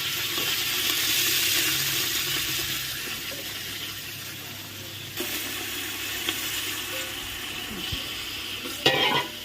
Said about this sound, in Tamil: இப்போ சேர்த்து வந்து நல்லா வதக்கிட்டோம்